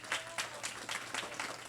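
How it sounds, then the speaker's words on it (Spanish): A church congregation applauding during a sermon, rhythmic clapping bursts at moderate distance and fairly faint, with no talk over it. "Yo no sé cuánto le dan un aplauso a Jesús,"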